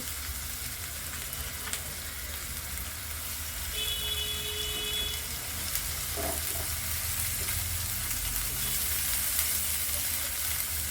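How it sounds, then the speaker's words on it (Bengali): Onion paste with ginger and garlic paste is being sautéed and stirred in a pan for a coral fish belly curry, giving a steady, moderate sizzle with a few brief beeps partway through. "এগুলোকে কষিয়ে নেব যতক্ষণ পর্যন্ত না এর কাঁচা গন্ধটা দূর হয়"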